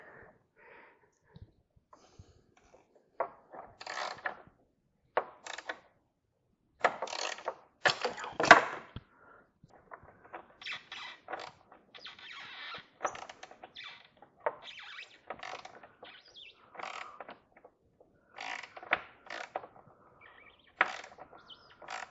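Wrench with a ratchet loosening the 13 mm battery hold-down bolt on a VW New Beetle, close, irregular bursts of ratcheting clicks and creaking metal separated by short pauses.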